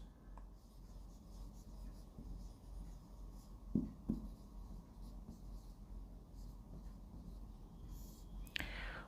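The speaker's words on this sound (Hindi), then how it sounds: "यहां पर हम लिख लेते हैं हमारे वर्किंग नोट्स" Soft pen-on-paper scratching as working notes are written by hand, faint and close over a low background hum, with a couple of slightly louder strokes near the middle and a brief rustle toward the end.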